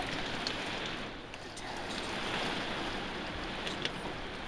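Hail and rain batter a camper in a severe 2011 flood storm in South Bismarck, North Dakota, a steady roaring hiss of heavy precipitation with occasional louder hits.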